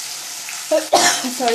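Onion added to hot oil in a pan for a ridged gourd curry, a loud close sizzle bursting in after a short quiet pause, with a brief spoken word over it.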